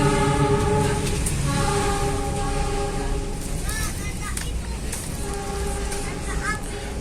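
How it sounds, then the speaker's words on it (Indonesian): A Pertamina tanker train runs from Malang Kota Lama toward the next station, giving a steady loud mechanical drone with repeated squealing wheel screeches, heard close by from on board another train. "Dan di situ melintas langsung kereta tanker Pertamina, kereta tangkinya Pertamina dari stasiun Malang Kota Lama menuju ke stasiun Benteng."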